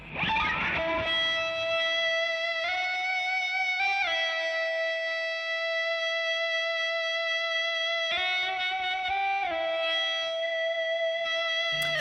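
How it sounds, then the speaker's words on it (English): An electric guitar played with an ebow gives smooth, endlessly sustained violin-like notes that swell in and glide between a few pitches, slightly gritty and effected, heard alone with no voices. "Now an ebow is a way of creating a constant violin-like sound on a guitar"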